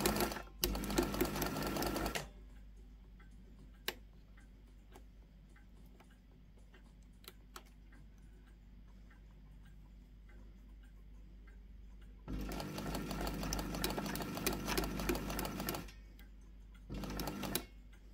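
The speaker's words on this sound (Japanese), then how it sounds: "こんな感じにちょっと縫っていきたいと思います。" A domestic sewing machine stitches fabric in two bursts, a longer run at the start and a longer one near the end with a short third burst, separated by a quiet stretch with faint ticks and handling noises.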